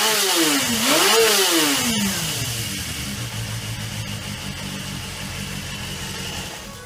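Suzuki GSX250S Katana 250 motorcycle engine after a carburetor adjustment, revving up and down in two swelling blips, then settling into a steady, fairly loud running note with no talking.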